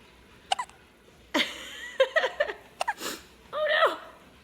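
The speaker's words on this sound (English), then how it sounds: "And then I get squeaky time hiccups." A baby gives a string of squeaky, high-pitched hiccups, short sharp yelps spaced irregularly, close and loud, with a longer squeal near the end.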